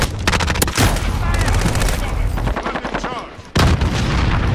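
Video game gunfire rattles in dense, loud automatic bursts, with rapid shots layered over booming impacts. There is a brief pause near the end before the firing resumes.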